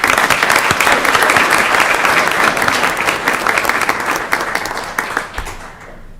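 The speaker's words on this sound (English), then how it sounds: "Let's go ahead and give those students applause." An audience applauds students at a school board meeting, with brisk, steady clapping from many hands that holds for several seconds before thinning and tapering off.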